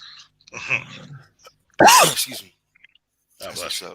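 A single loud, sharp human sneeze close to the microphone, set between short bits of casual indoor talk.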